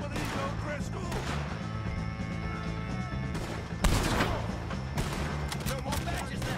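Gunfire in Red Dead Redemption 2, with shots cracking over a steady musical score and one sharp, louder blast standing out midway.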